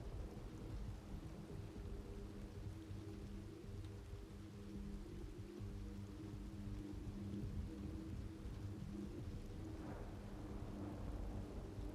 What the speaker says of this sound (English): See that lightning?